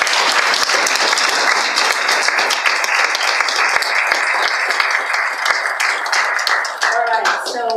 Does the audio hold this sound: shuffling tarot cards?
no